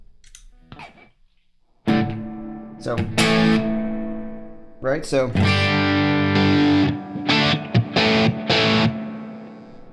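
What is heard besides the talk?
electric guitar with overdrive pedal and amplifier reverb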